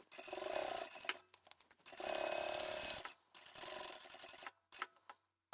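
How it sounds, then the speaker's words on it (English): A domestic sewing machine stitches fabric for a reusable foldable shopping bag, back-stitching and then sewing straight along a marked line. The whirring runs come in short bursts of about a second each, separated by brief pauses, close and fairly quiet with no talking. "I'll back stitch a couple of stitches, turn the work, and I'm going to sew straight over that marked line"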